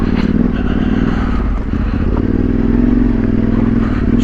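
Motorcycle ridden over bouldery off-road sections in the Yorkshire Dales, a steady loud engine drone with clattering and scraping from rocks underneath, continuous and close throughout.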